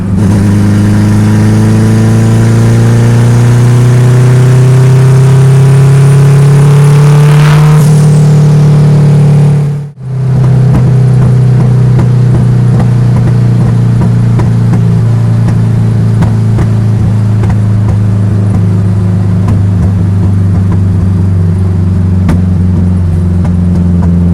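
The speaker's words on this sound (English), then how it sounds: "Driving a Honda 2000. Alright, floor it." Honda CRX with a turbocharged K20z engine revving hard at full throttle, the loud engine note climbing steadily, then a sharp break for a gear change before it pulls again up through the revs.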